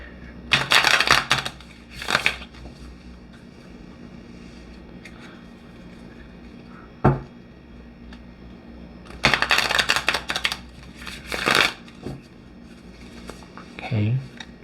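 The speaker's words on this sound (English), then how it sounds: "Let's shuffle them up, see how they shuffle." Tarot cards are shuffled in several quick riffling bursts, separated by pauses with soft taps, close up and crisp.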